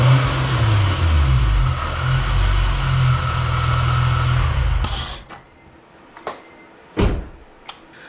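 A supercharged car engine fitted with a J37 throttle runs with a loud, steady low rumble that cuts off abruptly, then gives way to a few sharp clanks and knocks in a quiet space.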